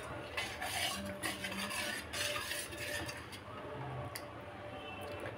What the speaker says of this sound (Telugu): తీసేసుకొని నీట్గా మిక్స్ చేసేసుకోవాలి